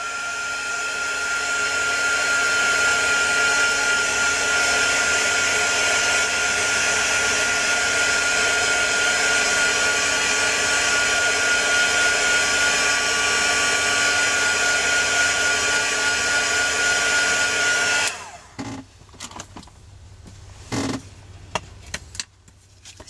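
A heat tool blows steadily while drying distress ink on a craft card, a loud continuous whooshing hum for about eighteen seconds, then cutting off abruptly and leaving faint handling clicks and rustles.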